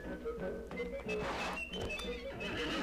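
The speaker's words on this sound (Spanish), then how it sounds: "Otro caballo." A horse whinnies amid hoofbeats and thuds in the Disney Infinity 3.0 video game, set in a desert area, heard over game music at moderate loudness.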